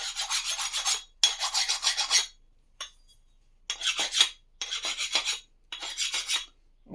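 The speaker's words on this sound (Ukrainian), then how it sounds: "Беремо напильник і чухаємо за усню, щоб на паралельки покласти гарно" Metal file rasping across a K-750/M-72 motorcycle cylinder head, five close, harsh strokes of about a second each, separated by short silent gaps.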